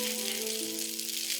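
Soy sauce and water hit a hot pan while cooking Jiangxi-style rice noodles, giving a steady close sizzle that holds evenly for about a second and a half.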